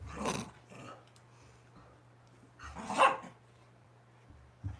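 Dogs romp and play in a room, giving a few sharp barks and yips in short bursts over a low steady hum, with one louder cluster of barks midway.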